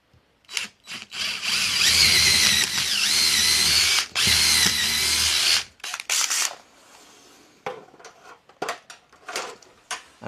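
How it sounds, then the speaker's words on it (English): A power drill whirs steadily for several seconds with a brief pause, then stops, followed by scattered clicks and handling noises nearby. "drill a little hole in there"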